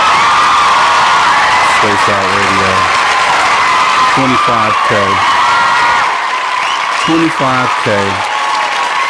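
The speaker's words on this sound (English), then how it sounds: "let me go ahead and give the round of applause" Steady applause and cheering from an audience fill the whole stretch, loud and continuous, while someone speaks over the top of it.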